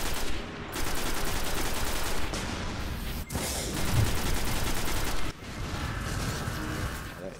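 Enemy rocket launcher fire and impacts in the shooter Destiny, a dense, continuous barrage of loud gunfire and blasts with brief dropouts, sounding close and heavy throughout.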